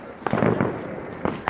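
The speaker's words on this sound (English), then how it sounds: "Hey, more fireworks!" Fireworks go off outdoors on New Year's Eve, with a couple of sharp pops and crackling bursts separated by a lull, loud and close, while people's voices are heard around them.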